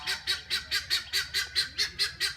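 Guinea fowl on a southern Indiana farm give a rapid run of about ten harsh, evenly spaced calls in quick rhythm, loud and fairly close, with no talking.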